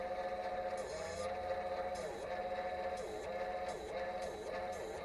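A part on an RC crawler rubs as it turns, making a steady whine that wavers in a regular rhythm about once a second, heard up close.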